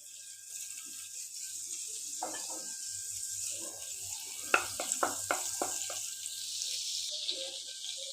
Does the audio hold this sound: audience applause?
no